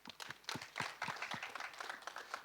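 Audience applauding at a film trailer launch event: quick, uneven handclaps from a crowd, fairly faint and distant, forming a short burst of clapping.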